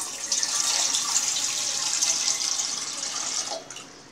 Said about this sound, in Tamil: நம்ம இப்போ இதில் வந்து 6 கப்பு தண்ணி இதுக்கு சேர்க்கணும்